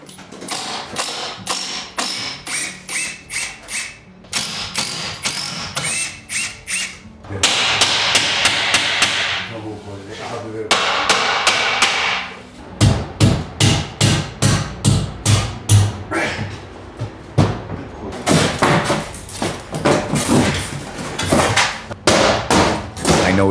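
Hammer blows dismantling a Japanese tatami room's closet and ceiling land one after another in fast runs of sharp knocks and thuds, broken by pauses and bursts of scraping and rattling.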